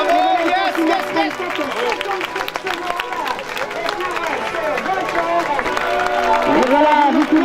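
A crowd at the Marathyonnaise 2016 marathon finish claps and cheers steadily for an arriving runner, a dense wash of applause and excited voices kept up throughout, with people talking over it.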